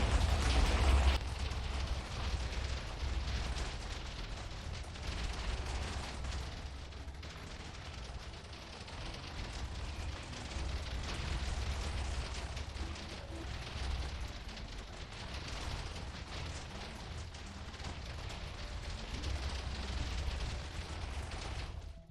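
Mass TNT explosions in Minecraft roar as one dense, continuous wall of rumbling blasts and crackling bursts that goes on for over twenty seconds at a steady loud level, with no talk.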